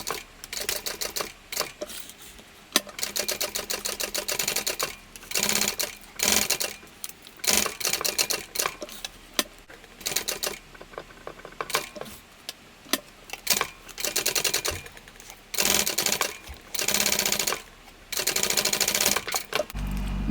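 A sewing machine top stitches the band of a mini tote bag in repeated short bursts, each stretch of rapid clattering separated by brief pauses, close and fairly loud.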